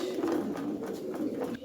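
Pigeons at a farm of about 300 pairs of native and foreign birds, a soft low cooing close by, continuous across a short moment.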